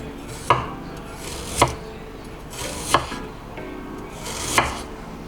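A knife chops ginger diagonally on a cutting board with four distinct, evenly spaced cuts, each a sharp close knock against the board with soft kitchen noise between.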